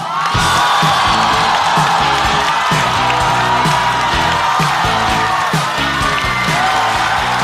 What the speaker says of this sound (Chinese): 来自蓝梗喜剧的新朋友，掌声欢迎陈曦。